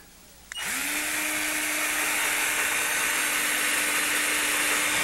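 A wireless electric drill spins up sharply and keeps a steady high whine while boring a hole, pulling shavings out as it runs, loud and close with no talking.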